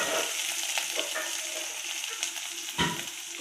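Curry leaves, sliced onion and green chili drop into hot tempering oil with mustard seeds and urad dal, crackling in a steady close sizzle with a few louder pops, no voices.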